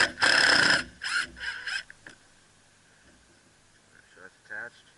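A power drill drives screws into a homemade wooden rod rack, giving a loud whirring burst followed by shorter bursts, then a quiet stretch and a brief whine near the end.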